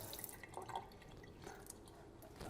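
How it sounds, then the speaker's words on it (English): Water drains from the bottom of a succulent pot in soft, faint trickles and drips, quiet and close, with a few brighter drops standing out. "I'm starting to have water come out of the bottom"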